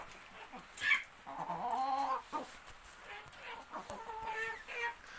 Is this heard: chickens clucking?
yes